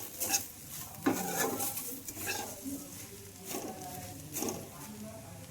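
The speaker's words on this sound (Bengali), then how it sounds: "সবজির সঙ্গে মুড়িগুলো মিশিয়ে নিচ্ছি।" Puffed rice being stirred into fried vegetables in a pan for masala muri makes soft rustling scrapes and light patter, with spatula knocks in irregular strokes, close and fairly quiet.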